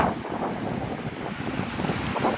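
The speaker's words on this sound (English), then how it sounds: "probably sounds more windy than it really is" Blustery wind at Navarre Beach, Florida buffets the microphone in a constant low rumble, with surf-like noise underneath.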